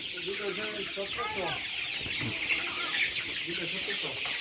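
Colour broiler chickens around thirty-one days old cluck close by on a farm, with repeated short calls overlapping amid steady background noise.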